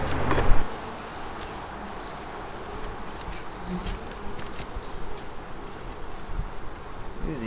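Honeybees buzzing steadily around an open hive during a first-year beekeeper's long inspection, a dense close-range drone lasting throughout, with a brief louder burst near the start and faint handling noises; no talking.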